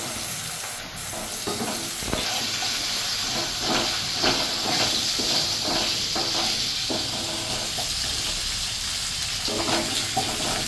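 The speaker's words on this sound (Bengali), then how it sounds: "মাছভাবে ওই তেলেই আমি কালো জিরে আর দুটো কাঁচা লঙ্কা দিয়ে দিলাম" Nigella seeds and two green chillies sizzle in hot oil, a loud continuous hiss and crackle close by with occasional sharper pops, holding steady throughout.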